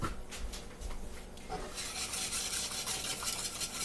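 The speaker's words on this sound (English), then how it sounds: "Whisk in those egg yolks." Egg yolks whisked in a bowl for a lemon meringue pie filling, a steady close scraping and stirring that starts softer and grows brighter and busier partway through, continuing without talk.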